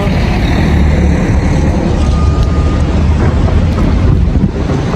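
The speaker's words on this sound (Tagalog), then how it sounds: "Lumakas ang ulan." Heavy rain pours down outdoors during a walk, a loud, dense, constant roar close to the microphone with some wind-like buffeting and no talking.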